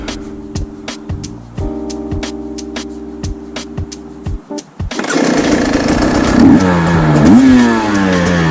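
A KTM 300 XCW TPI two-stroke dirt bike fitted with a fuel injector relocation kit starts with sharp idle pops and ticks, then erupts into a loud, close, raspy revving that rises and falls in quick bursts.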